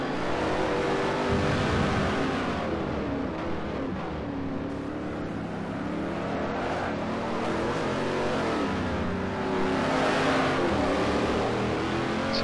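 Continuous roar of V8 Supercars racing in Forza Motorsport 4, engines revving and shifting loudly as cars brake hard for corners and run close together, with no voices.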